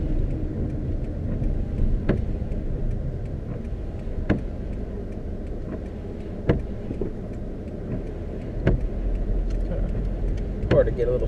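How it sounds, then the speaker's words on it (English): A car struggles for traction on a snowy rural street, its engine rumbling low and steady throughout, with several sharp knocks and clunks recurring every couple of seconds. "Hard to get a little started here with the traction problems here with these streets"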